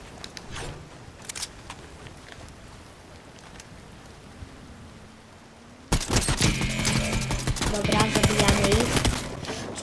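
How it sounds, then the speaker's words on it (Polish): Rain suddenly starting in the video game Fortnite: a light, crackly patter that swells abruptly into a loud, dense downpour about halfway through, with scattered sharp clicks throughout. "padać nagle zaczęło"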